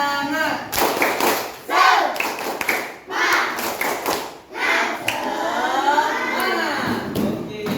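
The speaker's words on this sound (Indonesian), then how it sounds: "Oke, tepuk semangat dulu." A school class claps in a rhythmic group clapping chant, bursts of hand claps and thuds interleaved with children's voices chanting along, close and lively in a classroom.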